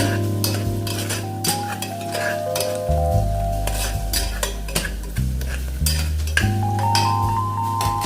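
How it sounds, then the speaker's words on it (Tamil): Green chilies sizzling in hot oil for a chicken curry, a spoon scraping and stirring the pan with metallic clinks, steady crackling frying up close without voices. "பச்சை மிளகாய் போட்டுக்கணும். போட்டு நல்லா வதக்கணும்."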